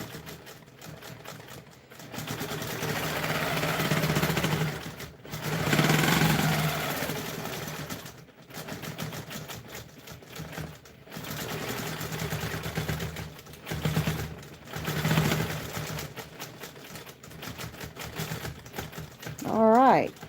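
A sewing machine stitches a custom quilt in several separate runs of rapid mechanical whirring, each lasting a few seconds and separated by short pauses, heard close and fairly loud.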